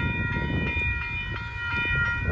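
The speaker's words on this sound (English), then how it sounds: "It's got 4 Union Pacific engines." A northbound Union Pacific auto train pulled by four engines passes close and loud at a road crossing in Austin, Texas, its horn chord sustained over the rumble of the rolling cars.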